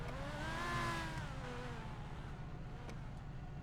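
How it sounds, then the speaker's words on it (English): A GTA 5 supercar engine drives through snow, a quiet, steady hum with a rising then falling rev tone early on before settling to a low drone. "Supercar in the snow, gotta love it."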